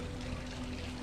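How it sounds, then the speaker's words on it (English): Water bubbling and trickling in a resort fountain pond: a steady, even wash of flowing water heard close, with no voices. "I can hear the water bubbling, the water drop."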